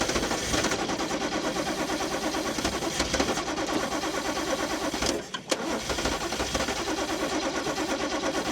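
A Toyota Cressida MX32 classic at a wreckers' yard cranking and struggling to run, a continuous rough mechanical churn that cuts out briefly near the middle before resuming just as loudly.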